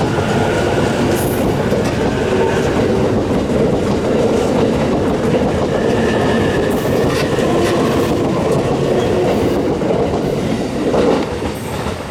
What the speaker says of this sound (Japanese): 泉駅のホームのない線路には、福島臨海鉄道の貨物列車が入線してきました。